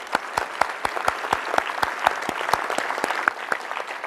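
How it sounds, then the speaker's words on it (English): An audience at a next-generation spacesuit reveal event gives a round of applause, with crisp, evenly spaced claps from a modest crowd running steadily throughout. "let's give them all a round of applause"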